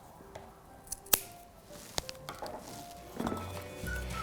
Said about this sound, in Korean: 위에 길어진 막끈은 가위로 잘라주세요